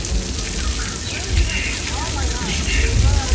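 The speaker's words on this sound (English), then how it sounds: "we create this rain effect using high-powered sprinklers, which shoots the water straight up into the air" High-powered sprinklers shooting water straight up make an artificial rain effect on an outdoor Old Mexico film set, giving a steady, hissing patter of falling water while people talk nearby.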